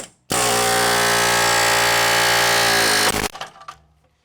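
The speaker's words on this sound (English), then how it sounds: "I'm going to get the air hammer and the pickle fork kit and see if we can bust these loose" Pneumatic air hammer driving a pickle fork to separate an inner tie rod end on a Chevy Blazer / GMC Jimmy, one loud continuous rapid hammering burst lasting about three seconds, then stopping with a few clanks.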